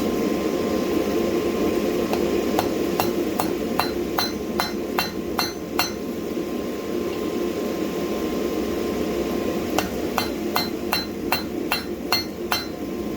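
A blacksmith hammers deeper set downs into hot steel, making sharp ringing metallic strikes in two rhythmic bursts, with a steady forge roar running underneath.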